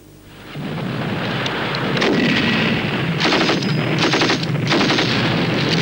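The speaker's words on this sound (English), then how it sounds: "a UK battle group making the best use of its artillery and anti-tank fire" Artillery and anti-tank fire from a UK battle group in 1985 battle footage: heavy booms and rumbling blasts roll one into another, loud and near, building into a dense, continuous barrage of gunfire.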